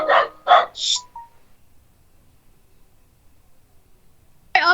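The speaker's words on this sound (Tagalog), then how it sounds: "Maingay ang aso." A dog barks twice in quick succession, with a short yip after, close by and loud, then falls silent; a brief burst of sound returns at the end.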